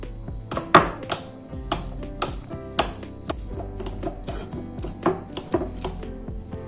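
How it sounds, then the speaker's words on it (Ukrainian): A fork mashing food after lemon juice is poured, a series of sharp taps and knocks against a plate or bowl at an irregular, quick rhythm, close and fairly loud. "Поливаємо лимонним соком та за допомогою вилки розминаємо"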